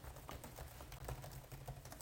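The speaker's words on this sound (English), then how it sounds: "And let me do some typing." Typing on the keyboard of an ASUS TUF Gaming A15 gaming laptop, a quick rapid patter of close, fairly soft key clicks with no voices.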